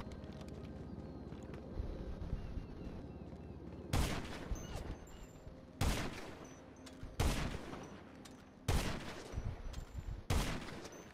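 Sniper rifle gunfire in the GTA video game: five sharp, loud single shots spaced a second or two apart, each with a brief echoing tail, over a low background hum.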